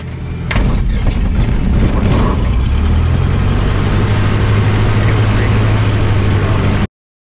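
A Cessna 152 small plane's engine cranks and catches, rising into a loud, steady, low propeller-driven drone heard close by, which continues until it cuts off abruptly.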